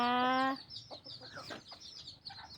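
A hen clucks nearby in a short burst of harmonic calls at the start, followed by softer, scattered clucks and rustling fowl sounds.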